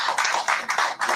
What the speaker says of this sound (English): please give him a big hand of applause as well